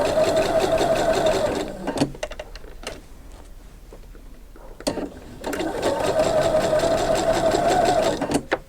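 A sewing machine runs in two steady bursts as it stitches the binding seam of a quilt, loud and close, with a short pause of quiet handling between them.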